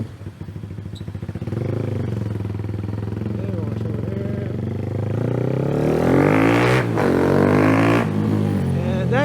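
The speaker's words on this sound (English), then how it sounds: "this thing is crazy loud because of the changes that they did to the exhaust" A Honda CBR sport motorcycle with a loud modified exhaust, idling with a rough lumpy burble, then revving up hard into a close, very loud roar near the end, with no talk over it.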